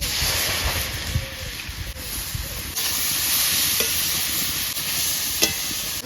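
Chopped carrots frying in ghee in a pan at home, a steady hiss of sizzling with scraping stirring strokes and occasional clinks of the utensil, close and continuous.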